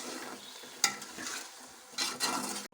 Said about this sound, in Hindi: अब हम इसमें मसाला डालेंगे दही वाला और इसको अच्छी तरह मिक्स कर लेंगे